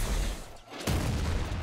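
Explosions in the Nuclear Throne roguelike video game, dense booming bursts that fill the soundtrack, a short gap, then another heavy rolling wave, loud and continuous.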